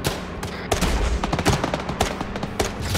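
Video game firefight with sustained gunfire aimed at trucks, rapid bursts of overlapping shots and machine-gun fire, loud and continuous throughout.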